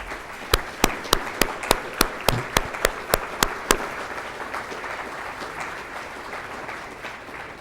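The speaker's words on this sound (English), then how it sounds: "give you a round of applause for thanks" A crowd applauds volunteers at a YMCA volunteer recognition dinner. About a dozen sharp, evenly spaced claps ring out over a background of clapping, then settle into a steady, moderate round of applause.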